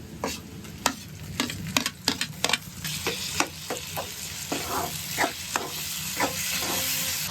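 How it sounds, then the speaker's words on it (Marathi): Chopped tomato going into softened, lightly browned onions frying in a pan for chole bhaji, a steady sizzle with repeated sharp scrapes and clicks of stirring, close and loud with no talk. "इथे आपला कांदा मऊ झालाय थोडस लालसर झालंय आता टाकायचं आहे टोमॅटो"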